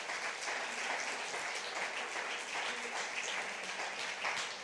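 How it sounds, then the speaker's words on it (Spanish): A church congregation claps for several seconds, a dense and steady wash of hands at a moderate level with no pause. "denle un aplauso al Señor porque esto es muy grande y muy profundo"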